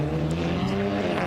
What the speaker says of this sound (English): off in the background, that is the TCR car